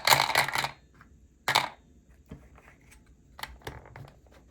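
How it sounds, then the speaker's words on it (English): Dice clatter into the plastic pyramid of the Camel Up board game in a few short, sharp rattling bursts, loudest at the start, with quieter scattered clicks afterward. "Now that the camels are in their starting position, we have to put the dice into the pyramid."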